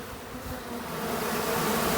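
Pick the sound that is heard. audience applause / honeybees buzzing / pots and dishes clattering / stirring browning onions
honeybees buzzing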